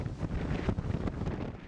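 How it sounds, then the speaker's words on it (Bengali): Gusty wind from cyclone Fani roars and buffets the microphone in a continuous, rumbling rush with uneven surges over a short stretch. "দমকা হাওয়া ও ঝড় বৃষ্টিতে বিপর্যস্ত গোটা দেশ"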